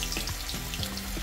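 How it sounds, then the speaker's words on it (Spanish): Tuna bites frying in hot oil in a home kitchen, a continuous bubbling sizzle with small repeated pops, close and steady throughout. "vamos a poner a freír nuestros bites"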